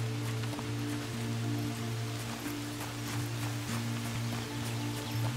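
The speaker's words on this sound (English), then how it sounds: "Oh, it's raining." Rain falling in the video game Among Trees: a soft, even patter of drops over a steady low hum, continuous and quiet, with no voices.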